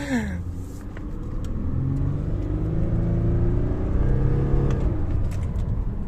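An Audi A8 car drives steadily on the road, a continuous close engine and tyre hum with slight rising engine tones, loud and unbroken with no talking.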